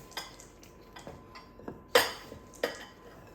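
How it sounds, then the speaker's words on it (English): A spoon or spatula clinks and scrapes against a bowl as s'more cookie dough with chocolate chips, graham crackers and mini marshmallows is stirred, giving a few irregular close taps, with one sharper knock midway, over quiet room tone. "I am going to get my little stool over here because this bowl is up high and I can stir much better"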